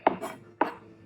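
Two sharp knife chops cut through a small onion on a board, close and distinct, spaced about half a second apart with quiet between them.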